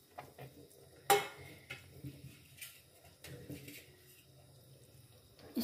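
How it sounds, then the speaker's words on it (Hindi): Shredded chicken being stirred into cooked lentils for chicken haleem: soft scraping and clinks of a spoon against the pot, quiet and irregular, with one sharper knock early on. "और इसको हम अच्छे से मिक्स कर लेंगे।"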